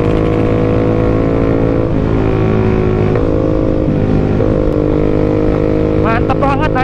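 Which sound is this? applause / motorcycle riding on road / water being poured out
motorcycle riding on road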